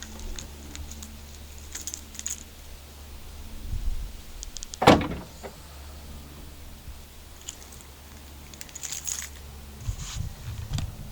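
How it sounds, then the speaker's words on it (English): A 2019 Dodge Ram 1500 Limited tailgate drops open automatically, giving a single solid thud midway through, with quiet background around it. "And you can even drop the tailgate automatically."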